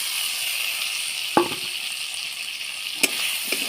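Potatoes and flat bean seeds tossed into hot frying spices in oil: a soft continuous sizzle broken by two sharp clatters as the pieces drop in, then quieter spatter.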